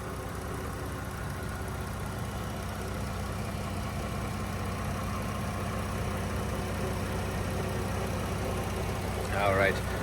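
A 2013 Dodge Grand Caravan SXT engine idles steadily under the open hood, a smooth, even hum held close and constant throughout with no talking over it.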